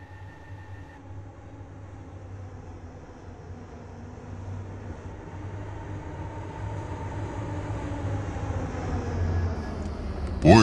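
A metro train in the Roblox video game, its doors closing and the train then departing with a steady low rumble that slowly grows louder over about ten seconds, ending in a brief sharper burst.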